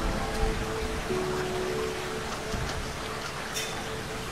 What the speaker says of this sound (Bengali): বৃষ্টি তো কিছুক্ষণের মধ্যে বন্ধ হয়ে যাবে।